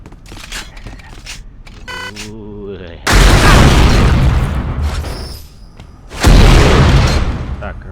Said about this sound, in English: The primary fire mode of the rocket launcher fires single rockets.